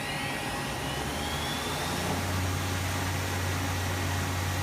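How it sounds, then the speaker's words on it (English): A 1996 Enshu 550V CNC vertical mill spindle spins at 6,000 RPM in high gear, giving a steady, loud broadband whir with a sustained high whine and a low hum that swells slightly partway through. "Now we're going to shift into high gear at the upper end of the machine's RPMs,"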